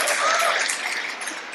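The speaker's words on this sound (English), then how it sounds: "that deserves applause" Audience applause at a live talk event, a dense patter of clapping that starts full and gradually thins out over a second and a half, heard alone without voices.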